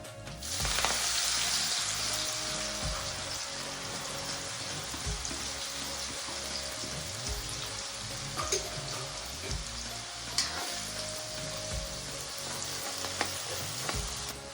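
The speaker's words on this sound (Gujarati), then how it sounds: "લસણ આપણું શેકાઈ ગયું છે" Asafoetida, curry leaves and green garlic fry in hot oil with cumin for a Gujarati tuver totha dish, making a long, even sizzle with a few faint clinks of stirring over a low, patterned hum.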